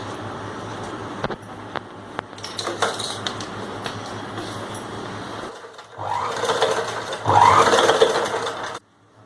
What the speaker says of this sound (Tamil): இந்த எட்ஜில் ஒரு தையல் போட்டுடலாம்